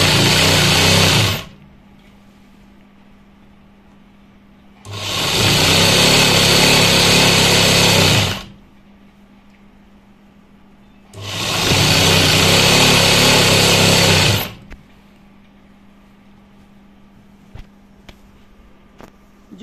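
A sewing machine stitches a salwar cuff in three loud whirring runs of a few seconds each, with quiet pauses between the runs and a faint motor hum in the background.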